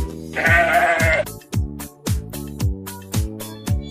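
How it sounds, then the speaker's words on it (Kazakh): A sheep bleats once, a loud wavering cry lasting under a second, set against a bouncy children's music backing with a regular plucked beat. "Қой,"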